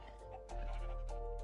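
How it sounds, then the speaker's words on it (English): A baby sheep in the Minecraft video game bleats, giving a short wavering cry that is mid-loud and stands alone over a faint steady background. "a baby pig, a baby sheep."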